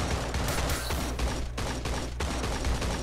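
Rapid bursts of gunfire crackle in quick succession, dense and continuous, like a firefight in the shooting game Creative Destruction.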